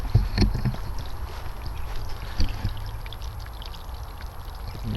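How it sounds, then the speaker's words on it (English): Water spurts and splashes from containers pierced by crossbow bolts, a steady pouring rush with a few sharp knocks at the start, fairly close and with no talking. "obviously you can see the water is spraying out at a much faster speed"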